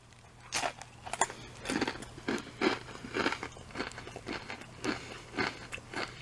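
Crunching bites of Takis Churro Charge rolled corn tortilla chips, a steady run of sharp, close crackling crunches with no talk.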